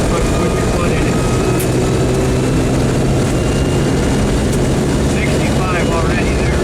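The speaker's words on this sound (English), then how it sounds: "you stand on the throttle and drive away from him" The engine of a 1966 Land Rover 109 drones loudly at full throttle, a steady low rumble with road and wind roar inside the cab, continuous and close.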